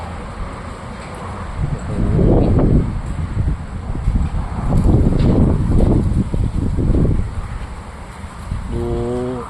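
Strong gusts tearing through trees, including a mango tree, at a house before rain, with a shop-front covering flapping; loud, surging roars rise and fall across the clip with no talking.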